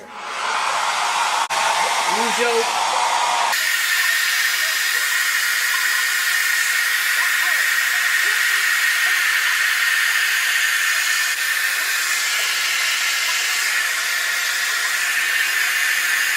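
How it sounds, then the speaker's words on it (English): A loud, steady blow dryer roars close by without a break while setting wig glue, its hiss filling the air after a brief spoken moment at the start. "now I'm about to glue it on with the blow dryer."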